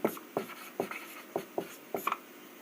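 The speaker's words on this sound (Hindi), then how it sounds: "तो यहाँ पर लिखेंगे इस प्रकार" Chalk or marker strokes on a board during a class 12 matrices lesson, a series of short, crisp taps and scratches at an irregular rhythm, close and moderately loud.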